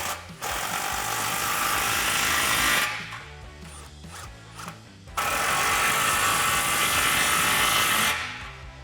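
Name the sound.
tightening exhaust clamps with a 15mm socket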